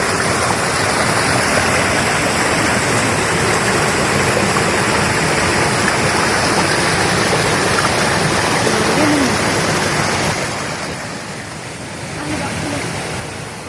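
Fresh water rushes steadily through a village stream in Kimadi near Dehradun, a loud, continuous broadband wash that eases off somewhat near the end.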